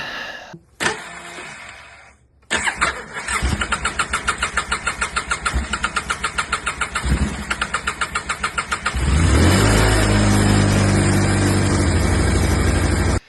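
An ATV needing carburetor work, played back from a phone video: a starter cranks in a rhythmic churning series, then the engine catches and settles into a loud, steady, close running drone.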